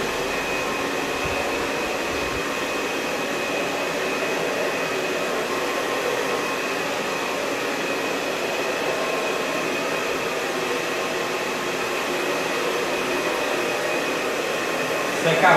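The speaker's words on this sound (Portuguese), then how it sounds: "agora vou secar a frente" A hair dryer blowing hair dry during a layered haircut at a salon, a loud steady whooshing drone that runs unbroken throughout, with faint voices beneath it.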